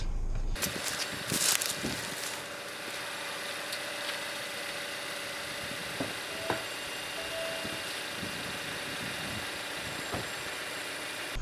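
An MG HS car engine runs steadily while driving, a low continuous drone with faint road noise and a few light knocks and clicks, heard from inside the cabin.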